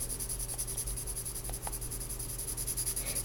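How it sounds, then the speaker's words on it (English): Pencil colouring on paper: a close, continuous scratchy rubbing of graphite strokes going back and forth without pause, with no voices. "so I'm just doing it with my pencil."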